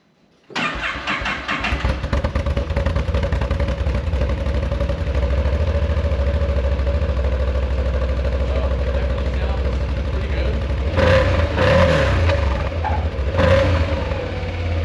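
A vehicle with a single-outlet exhaust starts and settles into a loud, steady idle with a deep exhaust rumble, then revs up briefly a couple of times.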